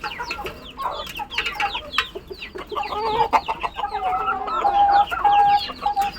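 Several Tiger and native desi chickens cluck and chatter close by in overlapping bursts while feeding, with one drawn-out call rising near the end.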